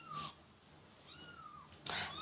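A kitten gives two short, high meows, one at the start and one at the end, with a faint drawn-out mew between them in a quiet room.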